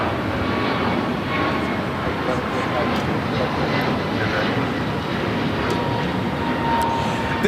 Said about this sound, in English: This is American Airlines 1105 taking off to Charlotte on the A321neo.